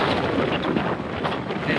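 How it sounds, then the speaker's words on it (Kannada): Gusty monsoon wind near Nandi Hills roars against the mic in uneven low rumbles and whooshes, loud and close throughout, with nothing else audible. "ಗಾಳಿ ಬೀಸ್ತಾ ಇದೆ."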